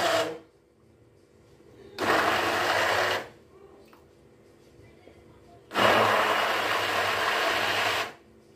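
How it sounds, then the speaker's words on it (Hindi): An electric blender briefly whirs through a pistachio kulfi mixture with dry fruits in two loud bursts, each lasting about one to two seconds, with quiet pauses around them. "अब इस स्टेज पर हम इसे बस हल्का सा ब्लेंड कर देंगे"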